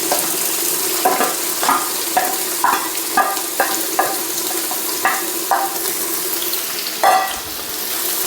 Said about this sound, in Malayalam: അപ്പം നമ്മളിതിലേക്ക് നേരത്തെ തയ്യാറാക്കി ചതച്ച് വെച്ച ചെറിയ ഉള്ളി ചേർത്ത് കൊടുക്കണം കേട്ടോ.